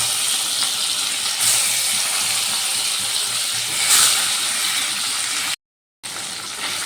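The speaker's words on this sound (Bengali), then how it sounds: "এবার যে পনিরগুলো কেটে রেখেছিলাম সে পনিরগুলো তেলের মধ্যে দিয়ে দিচ্ছি দিয়ে ভেজে নেবো" Paneer pieces fry in hot oil with a steady bright hiss and crackle, swelling in two brief bursts before a short dropout and resuming.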